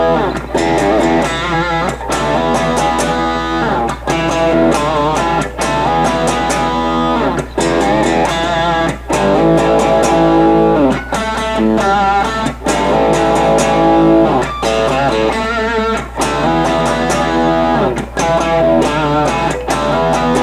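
A loud, dense distorted rock track played with driving guitar riffs and drums, continuous and full throughout, with no voices talking over it.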